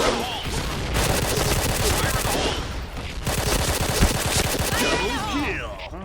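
Rapid bursts of K2C EBR gunfire from a PUBG match crackle loudly and continuously, with sharp shot transients packed closely together, while a player speaks over the shooting.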